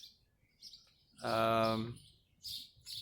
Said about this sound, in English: They're just making a lot of noise.